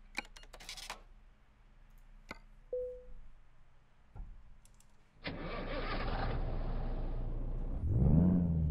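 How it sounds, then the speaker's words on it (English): Cummins ISX-15 truck engine starting in Euro Truck Simulator 2, heard after some clicks and keyboard taps: a sudden loud crank that settles into a steady diesel rumble, then a rising rev near the end. "So you can hear straight away, it's a pretty different engine."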